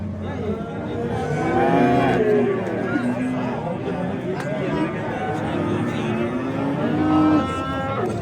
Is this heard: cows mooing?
yes